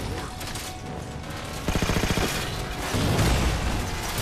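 A fire rock cannon fires in a Halo 4 game, a short burst of rapid gunfire thumps followed by heavier rumbling booms, moderately loud against the ongoing game sounds.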